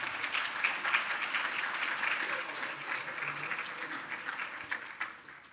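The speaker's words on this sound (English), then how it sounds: "a big round of applause to all of our donors" Guests at a jazz-themed charity fundraiser give a round of applause for donors, a steady wash of moderately quiet clapping from a crowd that holds evenly for several seconds.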